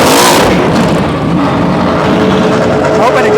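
Cars at the Velocity Invitational roar past loudly, with a steady engine drone and a strong burst at the start that eases slightly before holding on, with no clear speech.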